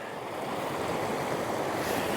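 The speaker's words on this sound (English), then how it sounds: "right next to this brook coming down here" A brook flows down a mountain valley beside a campsite, a dense, steady rush of water that sounds close and fairly loud, with no talk.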